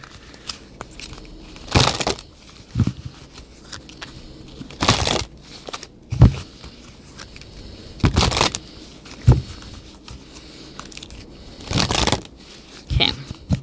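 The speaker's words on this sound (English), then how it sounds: "you'll see one of the cards here right now as I'm shuffling and pulling the card" Oracle card deck being shuffled by hand during a tarot reading, heard as about six separate brisk riffling bursts spaced a second or two apart, with quieter rustling between and no voices.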